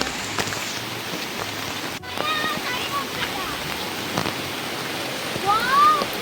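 Rushing water of a rain-swollen stream, a continuous broad wash with rain pattering around it; a voice speaks faintly at times.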